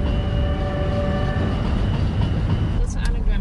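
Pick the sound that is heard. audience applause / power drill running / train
train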